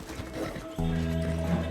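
A horse in Red Dead Redemption 2 gives a short whinny over a few hoof clops, then a steady low in-game rumble takes over, close and brief.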